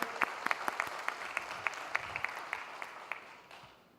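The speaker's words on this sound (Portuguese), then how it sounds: "Eu pediria, gentilmente, uma salva de palmas a esse grande" Sparse applause from an audience in a legislative hearing room, a handful of distinct claps scattered over a soft background wash, fairly quiet and fading toward the end.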